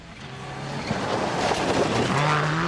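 A Subaru rally car snakes fast through a series of corners on a mountain pass stage in Portugal, its engine note building and rising in pitch as it approaches, loud and close, with faint crowd or commentary beneath.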